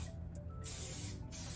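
Chi Royal Treatment finishing hairspray fires in two short, close aerosol bursts, a brief puff followed by a longer steady hiss, each cutting off cleanly.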